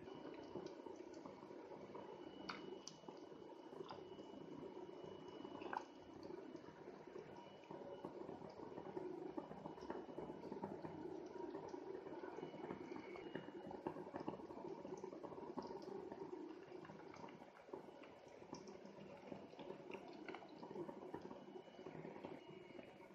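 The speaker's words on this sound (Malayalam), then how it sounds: "ഇപ്പോൾ വെള്ളം ചെറുതായിട്ട് തിളച്ചു തുടങ്ങി" Water for a Kerala fish curry gently starts to boil in a pot, a faint, steady low bubbling with small drips and clinks over about twenty seconds.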